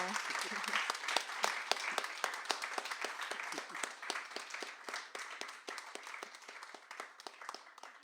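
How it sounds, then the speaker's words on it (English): Audience at a bookstore author reading applauds steadily, dense clapping from a small crowd filling the room for several seconds with no talk over it. "Give me a round of applause."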